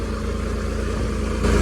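A tractor engine idles steadily after starting, a loud continuous low rumble that swells slightly louder near the end, with no talk over it.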